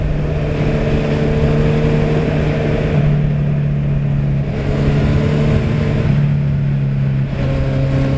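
An engine revs on a test ride of a Kawasaki Z750 or Honda CBR1000RR or CBR650FA motorcycle, a loud, close drone whose pitch holds, dips and rises again, with wind noise and no talking.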